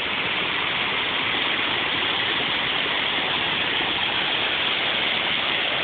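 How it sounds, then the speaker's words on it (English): Waterfall at Branbury State Park, its brownish white water roaring in a steady, loud, dense rush that holds unbroken from start to finish with no voices. "Waterfall goes all the way up"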